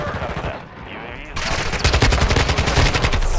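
Rapid bursts of gunfire from Modern Warfare 2 multiplayer, heavy and punchy, building into continuous loud automatic fire with layered shots close to the listener.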